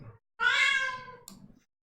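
A cat gives one long, loud, clear meow up close, followed by a shorter, softer call, with quiet between.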